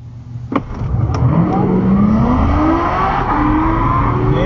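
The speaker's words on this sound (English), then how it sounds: "Our first run tonight out here at Bradenton is this ZR1 Corvette." An 825+ hp Chevrolet Corvette ZR1 launches at the Bradenton drag strip, its engine roaring close and loud as the pitch climbs steadily through hard acceleration, with a few sharp clicks at the start.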